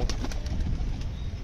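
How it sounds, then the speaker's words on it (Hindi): Pet pigeons in a home loft coo softly and flap their wings, with a few quick wing-beat bursts over low, murmuring coos, close by and fairly quiet. "सारे कबूतर बाहर आ चुके हैं,"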